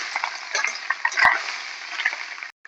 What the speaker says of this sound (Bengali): এবার একটু ভালো করে নাড়াচাড়া করবো।